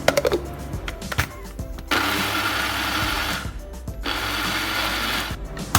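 A mixer grinder coarsely grinds chilli and grated coconut for Sri Lankan coconut sambol in two short bursts, each a loud steady whirring lasting about two seconds, separated and bracketed by clicks and rattles of the jar.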